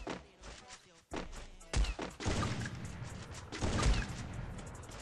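Gunfire in a shooting video game, with bursts of shots and heavy booms coming in quick clusters at close range, loud and punchy.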